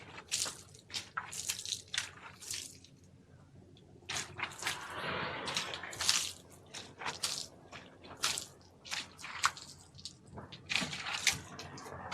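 Water poured from a jug splashes and drips over trailer lights on a dump trailer, coming in irregular wet bursts and trickles at close range, fairly quiet with no talking.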